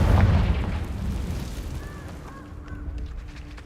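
A Confringo blasting spell explodes in Hogwarts Legacy: one heavy boom right at the start, decaying into a rumbling tail with faint tonal chimes as it fades.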